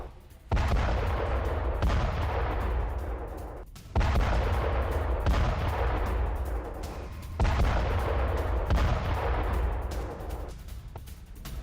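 Three heavy booms of Iranian missile strikes in news footage, each a loud sudden blast followed by a long rumbling roar that slowly fades before the next one hits, about four seconds apart.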